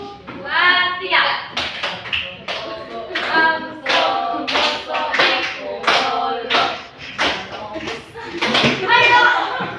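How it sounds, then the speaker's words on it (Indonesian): Junior high schoolchildren in an Indonesian classroom clap their hands in bursts of sharp, fast claps, loud and close, broken by short pauses and mixed with chatter and voices. "Tepuk tangan ya."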